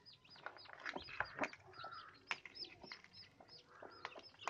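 A native Siruvidai hen with her newly hatched chicks, soft clucks mixed with rapid high peeping from many chicks, close and fairly quiet, continuous throughout.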